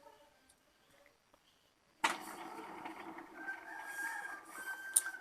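A rooster crows in the early morning in a rural spot, thin and somewhat distant at first, then a steady broadband mechanical noise sets in and partly covers it.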